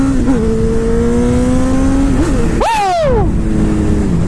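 A motorcycle accelerating on a city street: a steady, loud engine drone close by, then a sharp rev that climbs quickly and falls away again near the end.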